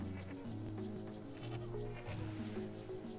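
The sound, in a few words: sheep bleating in the video game Shadow Madness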